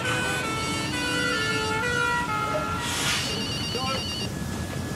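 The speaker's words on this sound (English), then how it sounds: "You hear the sirens? You hear some, the fire engines" Fire engine sirens wail with rising and falling tones, several overlapping at mid distance over a steady background rumble.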